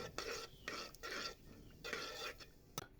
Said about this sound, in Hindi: घी गर्म हो गया तो हाफ टी स्पून इसमें सफ़ेद ज़ीरा हम डालेंगे। हाफ टी स्पून अजवाइन। हल्का सा भूनेंगे इनको।